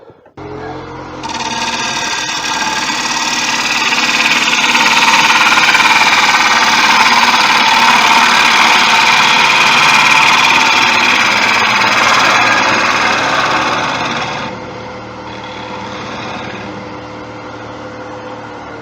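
A wood lathe spins a bowl while a tool makes a hollowing cut inside it, a loud, close, sustained rasping whir that builds, holds for about thirteen seconds and then drops back to the lathe's quieter motor hum, with no talk.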